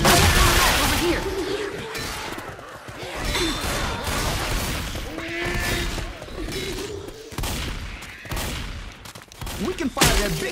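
Bursts of gunfire from the zombie shooter Left 4 Dead 2, rapid volleys and crashing impacts repeating close and loud across the whole stretch, with players' voices talking between and over the shots.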